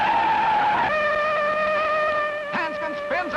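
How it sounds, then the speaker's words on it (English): Race car spinning out at Daytona, with a sustained tonal squeal of tires skidding that shifts in pitch, joined near the end by sharper bursts of squealing, loud and close under faint background noise. "Hanscon spins out."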